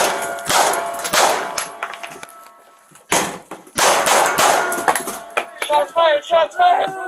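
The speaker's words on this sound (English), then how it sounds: "Shots fired!" Gunshots fired from beneath a bed at officers during an arrest, a series of loud sharp cracks in two clusters with metallic clangs, followed by rapid clicking and rattling.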